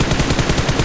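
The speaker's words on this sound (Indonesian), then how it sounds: "Dia nembakin ke Arsi itu tadi." Rapid gunfire in a tactical shooter video game, a quick run of loud, evenly spaced shots filling a short moment with no talk over it.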